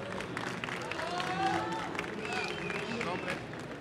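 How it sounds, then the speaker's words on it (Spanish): An audience applauds at a tech event prize ceremony as the third-place winner comes to the stage, a steady moderate wash of clapping from the room with voices murmuring underneath. "Un aplauso"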